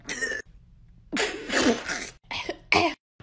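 Several coughs and throat-clearing bursts from a person in a class, coming in separated clusters with short pauses, close and fairly loud.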